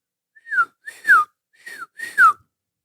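A person whistles a signal: four rising-then-falling whistled calls in two pairs, clear and fairly close, with short gaps and nothing else around them.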